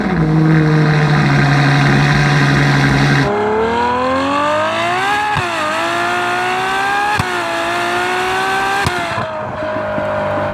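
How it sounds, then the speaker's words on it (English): A Ferrari 812 Superfast V12 runs close by, idling with a deep steady drone, then rising and falling in smooth revs that swell and settle, loud and alone. "Ferrari 812 Superfast go from sounding like this to sounding like this."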